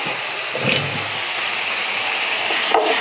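Tomatoes, salt and spices sautéing in a pan for Chettinad chickpea curry, a steady close sizzle with occasional scraping and stirring knocks.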